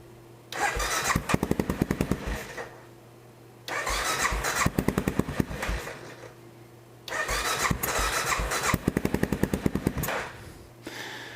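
An Aprilia Pegaso 650 motorcycle being cranked in three long bursts of rapid rhythmic starter chugging, each stopping in a brief lull, as the engine coughs but fails to catch, close and fairly loud.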